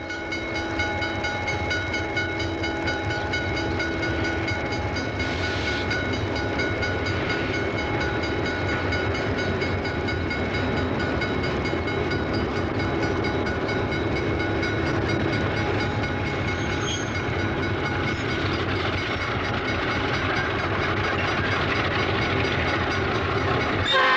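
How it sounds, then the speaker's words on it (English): Rock Island Rockets passenger train pulling away from a station platform after a brief stop, a steady loud rumble of rolling cars with faint horn tones, continuous for the whole stretch and no voices. "The train gets underway after a brief stop."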